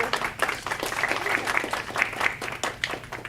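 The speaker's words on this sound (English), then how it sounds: "let's give everybody a round of applause for" An audience at a food history talk breaks into applause, a dense, steady patter of many hands clapping at moderate loudness, with some voices in the room underneath.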